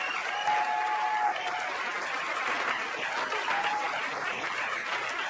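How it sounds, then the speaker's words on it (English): Audience applause for the comedian Amy Schumer at a stand-up comedy show, a steady, dense wash of clapping from a large crowd that holds at an even level for about five seconds without pause. "Put your hands together for Amy Schumer!"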